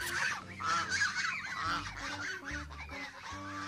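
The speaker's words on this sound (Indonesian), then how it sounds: "Ini bebek angsa." A goose honks repeatedly, with loud, nasal calls sounding close and fairly continuous over a cluttered background of other tones.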